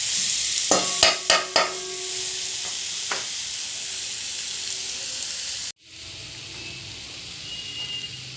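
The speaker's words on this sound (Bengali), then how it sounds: "পেঁয়াজ কুচি কড়াতে দিয়ে দিলাম।" Chopped onion, grated cauliflower, coriander leaves and green chillies dropped into hot oil in a wok, a few sharp clatters followed by a loud, steady sizzle that cuts off abruptly, then a quieter continuing hiss.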